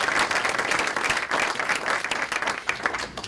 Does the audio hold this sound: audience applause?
yes